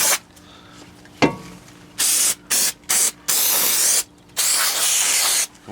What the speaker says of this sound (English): get your new rotor and make sure to spray